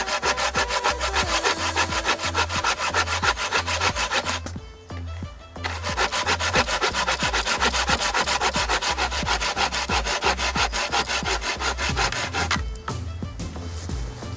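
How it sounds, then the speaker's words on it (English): A Laplander folding saw rasps through wood in quick, even back-and-forth strokes, close and loud, with two short pauses before the cutting starts again. "Your little Laplander saws like this."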